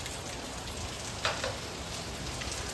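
Steady rain falls outdoors during a heavy downpour, a dense continuous hiss with a couple of brief louder splashes near the middle, fairly close and with no voices.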